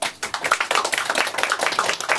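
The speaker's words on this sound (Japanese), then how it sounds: "皆さん大きい拍手でお願いします。" A live concert audience breaks into sustained, dense clapping, many hands overlapping in a steady, bright patter that fills the room without a break.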